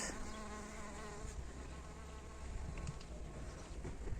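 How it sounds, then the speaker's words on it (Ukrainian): Steady insect buzzing fills the air, several bees and bumblebees droning close by in a spring orchard with a continuous hum and occasional louder passes. "Бджоли літають, шмелі літають."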